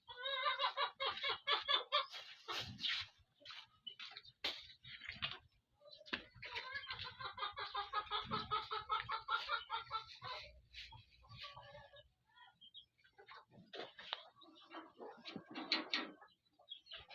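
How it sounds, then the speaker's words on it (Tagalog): Pigeons are fed up close, with repeated bird calls, clucking and scuffling through most of the scene, and a person's voice is heard at times. "Samahan niyo ako magpapatuka sa aking kalapate."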